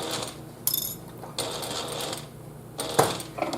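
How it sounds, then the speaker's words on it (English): A sewing machine fitted with an edge foot stitches a pouch in short bursts of rapid mechanical whirring and clicking, separated by brief pauses for a back stitch, close up with no talking. "So let's sew. We're going to sew, back stitch, and sew."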